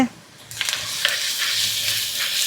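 Ginger garlic paste hits hot oil with onions in a pan and bursts into a bright, steady hiss with a few sharp crackles, close and fairly loud, continuing without a break.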